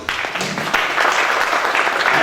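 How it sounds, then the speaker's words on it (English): An audience at an evening magazine launch event applauds with steady, dense clapping that continues throughout, heard fairly close and without talk over it. "let's give her an applause"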